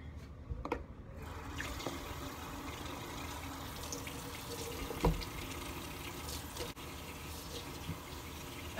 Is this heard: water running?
yes